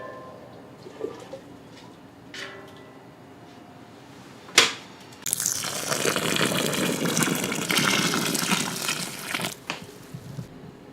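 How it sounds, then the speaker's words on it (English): Hot water is poured into a grain mash for all-grain beer brewing, a steady rushing gush into the vessel that starts after a sharp knock and runs for several seconds, fairly close, with no voice. "We're gonna go ahead and add 12 quarts to the mash temp and just let it sit for about an hour."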